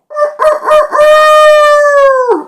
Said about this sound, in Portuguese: Que galo rouco esse